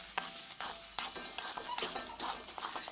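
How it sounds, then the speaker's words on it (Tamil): A spoon stirs halwa dough with sugar in a pan, making repeated scraping and soft sizzling strokes in a steady rhythm with occasional light clinks, close up and without talk. "சர்க்கரை சேர்த்து நீங்கள் அப்படியே நல்லா மிக்ஸ் பண்ணும்போது"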